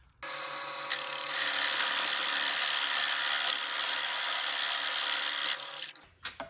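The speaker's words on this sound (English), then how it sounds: "I'll drill to a depth of about 3/4 of an inch." A power drill bores about 3/4 inch into wood for about five seconds, a loud continuous whirring grind that stops abruptly, followed by a few faint clicks.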